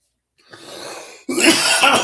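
Coughing close by, a short softer cough followed by a louder, harsher burst of coughs and throat clearing that goes on to the end, with no talk.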